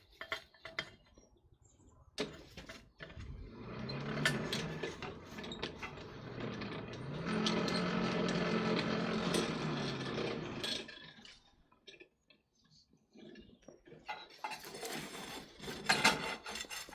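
A hand-cranked forge blower is turned in a smithy while the fire is raked, giving a rattling, whirring mechanical rumble that swells in two long stretches, mixed with metallic scraping and clinks.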